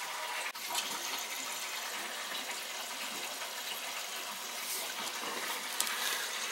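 A boiler zone is purged after a tankless coil replacement. Water and air rush out through a hose in a steady, moderately loud gushing hiss with a slight surge midway.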